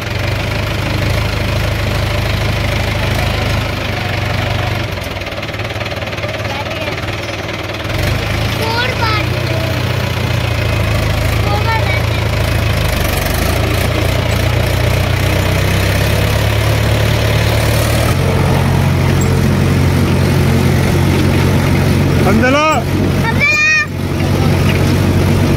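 Farm tractor engine idling steadily in a village, a low continuous rumble throughout with voices speaking over it.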